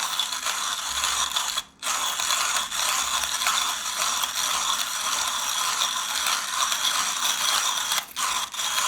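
A hand-cranked manual coffee grinder crunches through large, fresh coffee beans, a steady close ratcheting and grinding that runs continuously with two brief pauses in the cranking.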